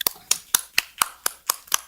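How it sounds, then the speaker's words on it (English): A single person's clapping at a small city council meeting: eight crisp, evenly spaced claps, close and distinct with silence between. "I'd like to offer him another round of applause."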